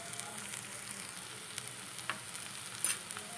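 Fiddlehead fern greens with salt fry steadily in a pan, a continuous close sizzle with faint stirring clicks and no talking.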